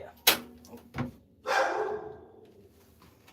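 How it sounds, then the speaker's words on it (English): Dogs barking indoors at home: a few sharp barks near the start, then a longer, louder bark that trails off, fairly close by. "And my dogs are barking."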